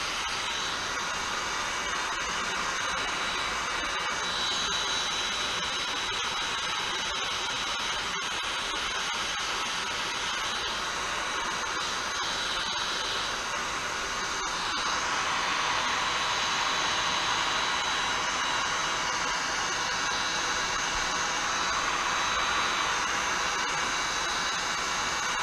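Heat gun blowing hot air onto a scratched polyethylene plastic kayak during repair, a steady loud whooshing roar that holds throughout and swells slightly louder partway through, with no talking.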